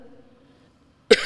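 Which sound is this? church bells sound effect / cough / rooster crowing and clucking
cough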